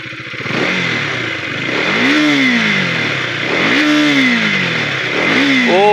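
A motorcycle with its tail section removed revs loudly up close, three sharp rising-and-falling throttle blips over a rough, steady idle, with another rev beginning at the end.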